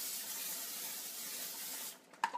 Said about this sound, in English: Where'd my spray go? There's my spray.